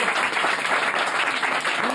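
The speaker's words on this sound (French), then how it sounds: "On peut l'applaudir." A studio audience on the French TV game show Burger Quiz bursts into sustained, loud applause, a thick continuous patter of many hands lasting the whole moment.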